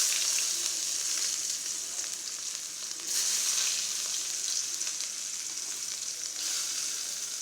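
Mustard seeds and onions fry in hot oil in a kadai, a steady, close, dense sizzle with faint crackles that swells briefly a couple of times, and no voices.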